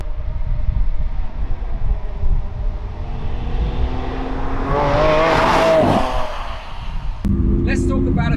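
A Lamborghini Aventador SV engine rumbles and swells as it passes close by, rising to a loud peak and then falling away, with someone talking over the end.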